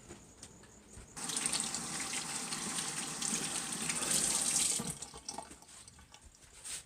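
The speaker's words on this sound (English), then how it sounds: "Wash my hands again." A kitchen sink tap runs while hands are washed, a steady close gush of water starting abruptly and stopping after a few seconds, with quiet handling sounds around it.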